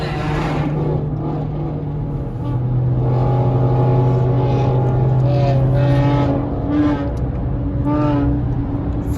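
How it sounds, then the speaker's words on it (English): A purple Dodge Charger revs hard during a highway drift takeover, its engine roaring loudly in repeated rising and falling pulls that stay close and continuous. "That's all you hear is them just revving it."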